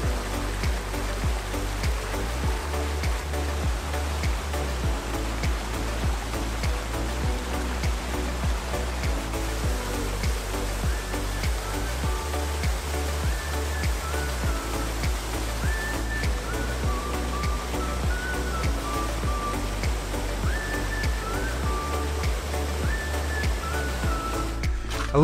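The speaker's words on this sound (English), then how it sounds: "So you got the main falls over there with what looks to be a nice sized pool" Waterfall in Queenstown, New Zealand, with its main falls spilling into a sizable pool beside a small side creek, roars as a steady, loud, broadband rush of falling water throughout, with no voices.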